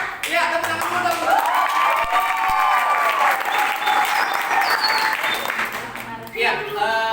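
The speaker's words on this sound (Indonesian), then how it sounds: "Ya, tepuk tangan dulu dong" Audience applause fills a room during a session, dense clapping from many people sustained for about seven seconds, with voices and some background tones audible underneath.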